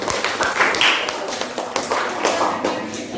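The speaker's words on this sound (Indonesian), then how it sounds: "Tepuk tangan dulu untuk kelompok 1." Classroom audience applauding the first presentation group, a busy patter of hand claps with sharp individual taps standing out, steady for a few seconds.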